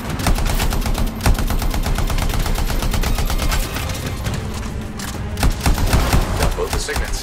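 Rapid bursts of automatic gunfire lay down cover fire in the Anthem video game, loud and nearly continuous, with sharper shots standing out among dense rattling rounds.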